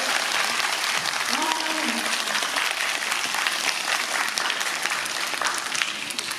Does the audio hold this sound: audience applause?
yes